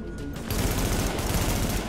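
Rapid bursts of automatic gunfire from the video game Tom Clancy's The Division, loud and dense, starting after a brief quieter lead-in and continuing without pause.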